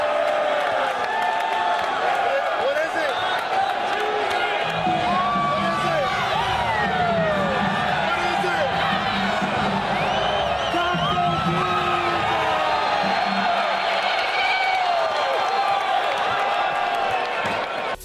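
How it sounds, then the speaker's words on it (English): Fans at a basketball game with LeBron James cheer and whoop for Taco Tuesday, a loud, continuous crowd roar with scattered shouts and whistles that holds steady throughout. "Here is LeBron and some other fans in a game cheering for Taco Tuesday"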